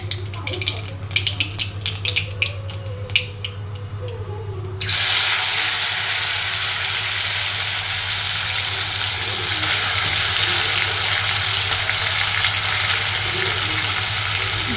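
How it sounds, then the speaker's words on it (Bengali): Nigella seeds dropped into hot oil for a murola fish chochhori burst into a loud, sudden sizzle after a quieter stretch of faint kitchen clatter, then hiss steadily and close. "তেল গরম হয়ে গেছে, এখানে দিয়ে দেব। প্রথমে দিতে হবে কালো জিরে"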